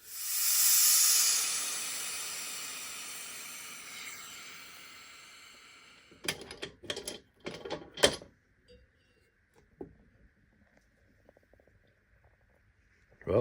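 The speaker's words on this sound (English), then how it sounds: "I'm going to let the air out of the pot and take a look at this skull." A resin pressure pot vents its air in a loud, rushing hiss that gradually fades over several seconds, followed by a series of clunks and knocks from handling the pot and lid.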